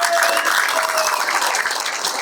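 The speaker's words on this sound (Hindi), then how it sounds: "ताली कर दो।" An audience breaks into steady, close clapping that holds at full strength for a couple of seconds, a dense patter of many hands.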